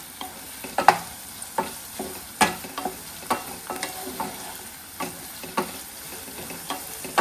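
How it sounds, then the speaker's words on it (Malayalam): Ginger and chopped shallots fry in oil with a soft steady sizzle, broken by sharp spoon-on-pan scrapes and taps every second or so, close by and with no voices. "എണ്ണ ഒഴിച്ചു ഇഞ്ചി ഇട്ടു അതിനുശേഷം ചെറിയ ഉള്ളി അരിഞ്ഞിട്ട് അതൊന്ന് ഇട്ടിട്ട് നല്ലപോലെ ഒന്ന് മൂപ്പിച്ചെടുക്കണം"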